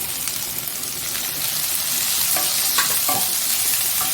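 Onions and tomato frying for a coconut-free Kerala chutney, a continuous sizzle with spatula stirring and a few scraping strokes growing slightly louder toward the end.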